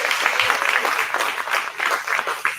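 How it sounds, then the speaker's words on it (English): A dense round of clapping fills an audience at Auburn's 40th annual Dr. Martin Luther King Jr. celebration, loud and close with uneven surges, no talking over it. "Yes, give a round of applause for yourself."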